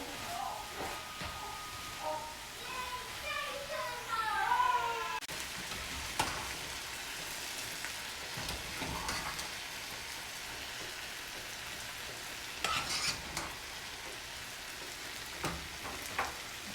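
A steady, rain-like sizzle from rice and vegetables frying in a pan, with occasional scraping and stirring knocks as the rice is folded in a little at a time, all at moderate level.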